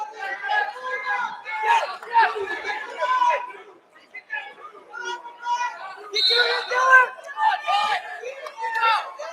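A high school wrestling finals crowd at Walsh Jesuit High School fills a gym with lively chatter, shouts and cheering rising and falling in waves, with a nearby announcer's voice talking over it.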